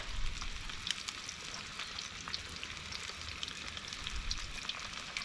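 Hare meat frying in hot oil in a pan gives a continuous crackling sizzle with scattered sharp pops, moderately loud and close, with no voices.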